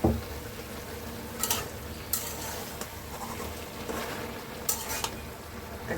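Pumpkin greens fry and sizzle in a pan, a soft, steady crackle with occasional spatula scrapes as they are stirred, close by and without speech.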